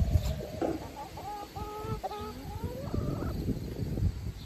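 Backyard chickens and a rooster in a garden, several birds clucking in short repeated calls close by over a continuous low outdoor background.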